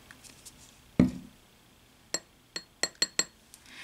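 Glass bowl and spoon clink while face mask ingredients, including salt and aloe juice, are mixed: one dull knock, then a quick run of five or six sharp, close, bright clinks with short gaps, alone without talk.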